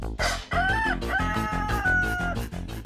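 A rooster crows a loud, clear cock-a-doodle-doo, stretched over several seconds, set against a steady rhythmic musical beat.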